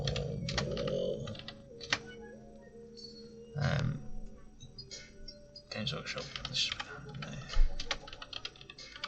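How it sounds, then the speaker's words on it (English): Typing on a computer keyboard held upright, with irregular bursts of clicky key taps under ongoing conversational speech in a workshop setting. "It's really difficult typing with a keyboard vertical"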